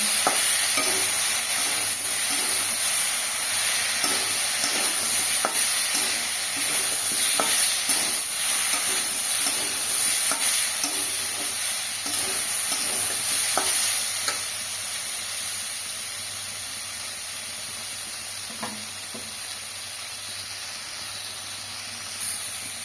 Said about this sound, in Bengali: এটা আবার 2 মিনিট মতো নাড়া দিয়ে তারপরে আমি জল ঢেলে দেবো